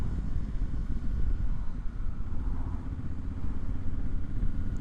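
A motorcycle rides along a road near Newlands Corner, Surrey, its engine a steady close rumble mixed with wind noise at constant loudness, with no talk.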